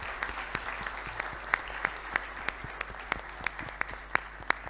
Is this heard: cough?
no